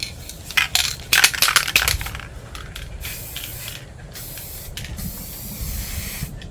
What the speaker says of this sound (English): spray painting